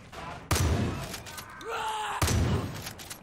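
Pump-action shotgun blasts in the video game Far Cry 5, two loud, sharp shots roughly two seconds apart, with an echoing tail and a short groan-like sound between them.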